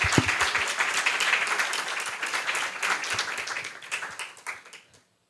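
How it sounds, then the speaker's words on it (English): A conference audience applauds for awardees, many hands clapping densely and evenly from the outset, then gradually thinning out and fading to silence near the end. "So we can give a round of applause for them as well."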